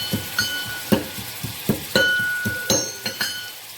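Ginger paste sizzles in hot oil in a frying pan while cooking aloo gosht, with a steady hiss broken by repeated sharp clinks and scrapes of stirring, close and moderately loud.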